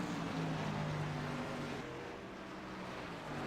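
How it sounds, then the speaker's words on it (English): Race cars circle a track at night, a steady roar of engines with passing tones rising and falling, heard from a distance and continuous throughout. "Meanwhile, cars circling around the track."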